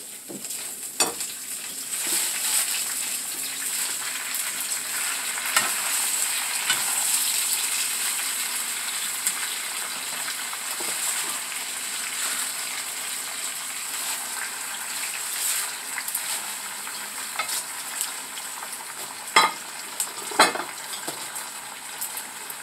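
Spinach cooking in a pan for a salmon dish, giving a steady broadband frying sizzle with occasional sharp clicks and stirring knocks throughout, moderately loud with no talk.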